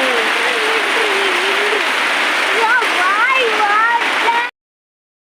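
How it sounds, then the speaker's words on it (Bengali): Heavy rain pours steadily outside a window as a loud, continuous rushing wash that fills the scene, while a voice speaks over it before the sound cuts off abruptly. "দেখেছ কি পরিণাম বৃষ্টি আসছে"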